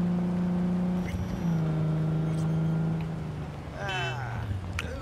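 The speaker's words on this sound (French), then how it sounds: "Ouah, elle a pas de frein cette voiture." A car in Cyberpunk 2077 hums along with a steady engine drone that shifts pitch as it speeds up, under in-game talk, with a brief whine of revving toward the end.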